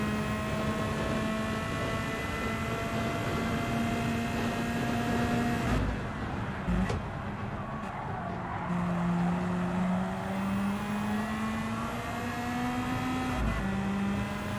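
A Toyota Supra race car in Gran Turismo roars at high revs, loud and close, with steady engine tone rising through gears, brief upshift breaks and faint tire squeal.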